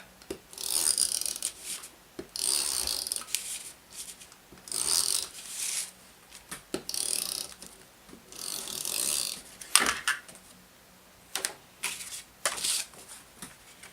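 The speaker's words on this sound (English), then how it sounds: "We're just going to run some double-sided tape." Double-sided tape being run onto paper craft pieces, heard as repeated close, crisp bursts of tape dispensing and ratcheting, each lasting a second or two and separated by short pauses.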